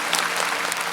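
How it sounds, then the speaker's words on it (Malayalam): An audience at a stage show in Kerala claps together in a dense, even burst of applause, loud and continuous for a brief moment. "ആനി ചേച്ചി വന്നപ്പോ ഒന്നും കൂടെ കൈയടി പ്ലീസ്"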